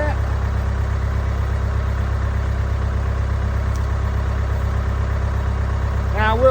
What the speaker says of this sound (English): I may have to cut this tractor off